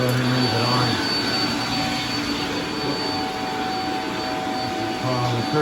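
Shark Multi Flex vacuum cleaner running steadily through a weekly house vacuuming, a continuous loud motor whine and airflow roar holding for the whole stretch with slight pitch shifts as it moves.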